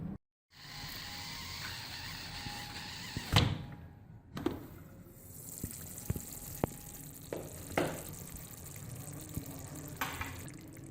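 A pressure cooker holding cooked goat trotters is opened in a home kitchen, with a sharp hiss and clank of the lid followed by bubbling, sizzling liquid and a few knocks of metal.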